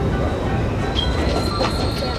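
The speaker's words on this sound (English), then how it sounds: "Game starts right on the train." A subway train rides the rails in the Spider-Man: Miles Morales video game, a steady loud rumble with brief metallic wheel squeals over constant rolling noise.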